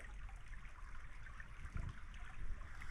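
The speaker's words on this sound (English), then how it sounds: "you got a little bit of a creek here" A small creek flows steadily along a hiking trail in the Great Smoky Mountains, a continuous close water rush and trickle with a brief louder gurgle near the middle, and no talking.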